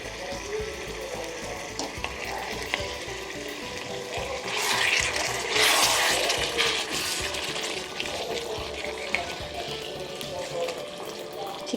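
Water poured into chicken butter masala simmering in a pan, a steady watery sizzle that swells into a louder splashing rush midway and then settles back to a soft bubbling hiss.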